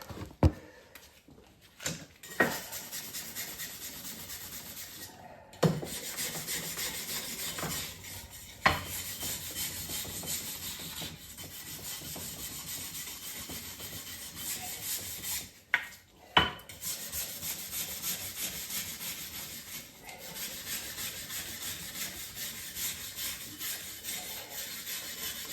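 A wire brush scrubbing parts of a Ransomes 16-inch Certes fine turf mower, faint repeated rasping strokes separated by a few sharp clicks and knocks, with no talking.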